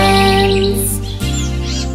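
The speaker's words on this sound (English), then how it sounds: "Don't you love to take a look at the birds waking up, chatting so merrily with all their friends?" Morning birdsong in a children's cartoon about Ben the train, bright chirps and tweets layered over a loud sustained musical backing throughout.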